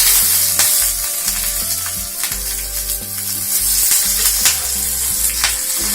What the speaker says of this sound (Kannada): ಒಗ್ಗರಣೆ ಕೊಟ್ಬಿಡೋಣ